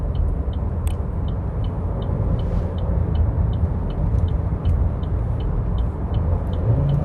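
A Chevrolet Cruze Hatch LTZ 1.8 automatic accelerating hard on a highway, heard from inside as a loud, constant road and engine roar, with a faint ticking of the turn signal running through it.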